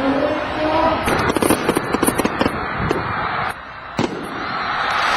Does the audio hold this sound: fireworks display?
yes